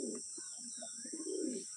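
Pet pigeons in a home loft give soft, low cooing calls, a few short throaty phrases close by but fairly quiet over a faint, steady hiss.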